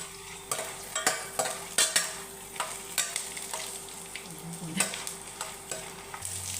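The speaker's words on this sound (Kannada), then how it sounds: "ಇವಾಗ ಚೆನ್ನಾಗಿ ಫ್ರೈ ಮಾಡ್ಕೊಳ್ಳೋಣ" Ginger and garlic frying with spices in a pan, with an even sizzle under a run of regular spatula strokes scraping and tapping the pan about twice a second, close and clear.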